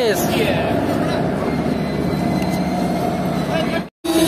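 Vaishali Superfast Express, the Saharsa to New Delhi service, standing at platform 2 in Saharsa station, with a loud, steady rumble of train and platform noise that carries on without a break until a sudden dropout near the end.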